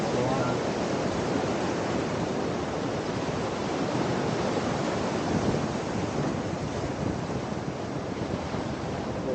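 Surf washing in continuously at Bapatla beach near Suryalanka, a steady broadband roar with wind buffeting the microphone throughout, loud and close with no clear gaps between waves.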